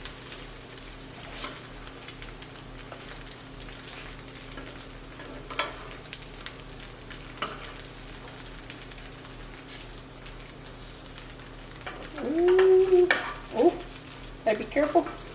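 Tofu sizzles steadily in a griddle pan on a stove, a soft continuous crackle with scattered pops, followed near the end by a brief louder scrape or clatter.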